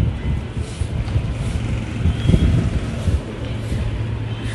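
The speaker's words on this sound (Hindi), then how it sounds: "हवा चल रही है ठंडी ठंडी।" Cool wind gusting across a home garden planted with spinach, eggplant, coriander and fenugreek, a steady low rumbling buffet on the microphone that swells and eases without pause.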